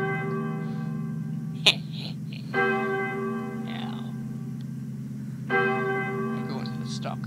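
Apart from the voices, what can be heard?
bell ringing in video game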